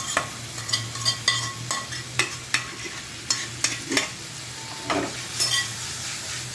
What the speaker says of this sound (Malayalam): നന്നായിട്ട് പുരട്ടി വെച്ചിരിക്കുന്ന ചിക്കൻ അതിലേക്ക് ഇടുക